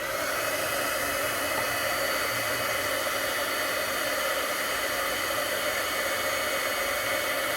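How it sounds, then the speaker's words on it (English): A heat gun blows a steady, loud, unbroken rush of hot air while melting embossing powder on a handmade card, sounding alone without any talk throughout. "we're gonna use the heat gun to heat this up"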